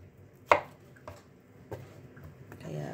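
Mushrooms are sliced with a knife on a board, giving a handful of crisp chopping taps spaced irregularly, close and moderately loud, with a faint voice in the background.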